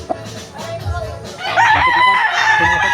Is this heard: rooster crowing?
yes